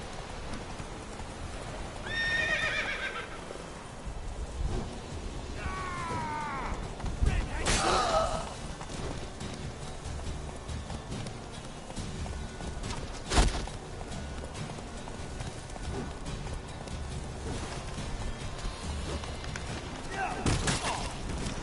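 Roach, the horse in The Witcher 3, whinnies several times over a steady patter of hooves, with a sharper neigh near the end and ambient game noise underneath.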